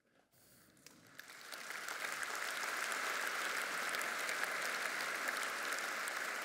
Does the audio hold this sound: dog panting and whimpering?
no